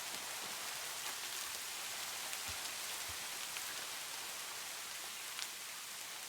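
Continuous hiss of rain falling in Minecraft, an even, close wash of drops on surfaces with a couple of faint low thumps, no voices over it.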